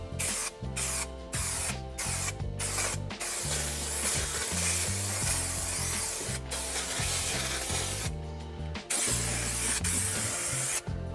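Spray adhesive for carpet lining in a van conversion, hissing in long continuous bursts with brief pauses, heard close over rhythmic background music.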